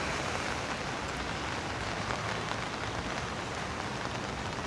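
Heavy typhoon rain from Typhoon Bualoi pours steadily in Da Nang, Vietnam, a dense, even hiss of water hitting surfaces, loud and unbroken with no voices.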